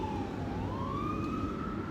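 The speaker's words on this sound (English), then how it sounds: "Excuse the sirens." Emergency vehicle sirens wailing in the distance, a steady rising and falling tone over a constant background hum, faint and sustained.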